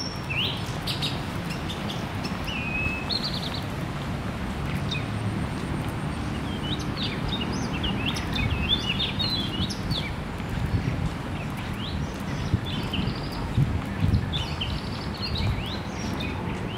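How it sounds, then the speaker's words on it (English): Many birds chirp and sing in a park, with scattered short tweets near and far over a low murmur of background ambience, fairly quiet and continuous. "A lot of beautiful birds here today."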